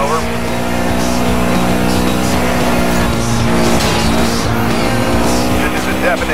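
Racing car engines roar during a police chase in the Need for Speed Most Wanted video game: a loud, continuous, high-revving drone with shifting pitch, and radio dispatch voices talking over it throughout.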